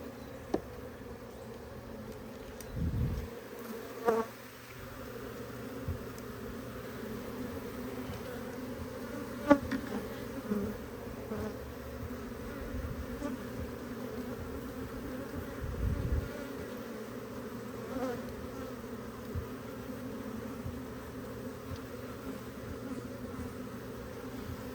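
Honeybees buzz continuously around an opened hive during a winter inspection, a close droning hum with occasional louder passes and faint handling knocks.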